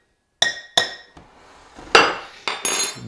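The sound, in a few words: tablespoon clinking while measuring all-purpose flour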